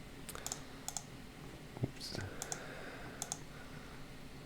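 Typing on a computer keyboard while entering a counter instruction in RSLogix 500 software: a few scattered, quiet key clicks in small clusters over steady room noise, with one slightly louder tap near the middle.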